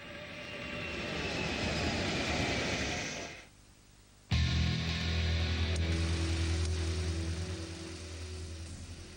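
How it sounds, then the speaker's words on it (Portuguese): A U-2 spy plane's jet engine, a steady loud roar that drops away briefly and then returns as a heavier low rumble, with no talk. "do rebento da Guerra Fria de Kelly Johnson, o avião espião U-2."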